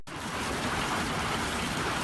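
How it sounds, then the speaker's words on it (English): Torrential hailstorm pounding the ground, a dense, steady roar of countless impacts that stays loud and continuous throughout with no voices. "The torrential hailstorm pounds the ground like thousands of tons of frozen explosives stored in a refrigerator."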